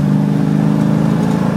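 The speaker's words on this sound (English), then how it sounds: "So now she's got power and she's kind of throaty, Zoma." A 1966 Ford Mustang coupe engine runs through throaty mufflers on a road test, a loud steady low rumble close by with no voices over it.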